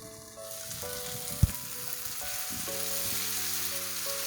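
Tomatoes cook in a covered pan for a Nepali-style Schezwan mushroom curry, a steady hissing sizzle that swells after a single sharp knock, with faint background tones and no speech.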